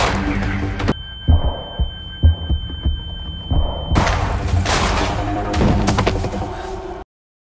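Film gunfight with heavy bursts of gunshots and booming impacts layered over a steady electronic tone and score, loud throughout before cutting off abruptly at the end.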